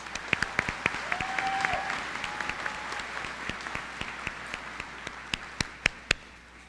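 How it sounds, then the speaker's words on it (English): Sparse, scattered clapping from a small commencement audience honoring a trustee: distinct individual claps ring out over a soft room hum, with a few sharper, louder claps near the end. "Let's give Shannon another round of applause, please"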